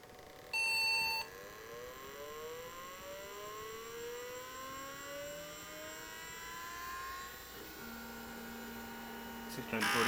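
An IBM PC clone computer gives a short electronic beep at switch-on, followed by a steady whirring fan and hum with rising, shifting tones as it starts up.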